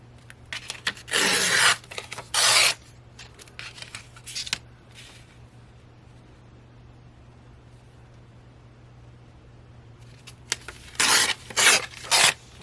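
Paper ripped for a junk journal comes in close, loud tearing bursts, a couple early on, then a quiet stretch, and another cluster of rips near the end.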